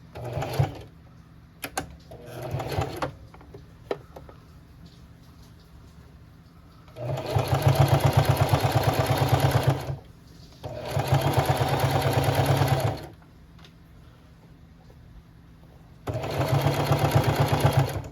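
Sewing machine stitching the seams of a fabric mug cozy, running in three loud, steady whirring bursts of a few seconds each, separated by quiet pauses with small clicks and handling sounds.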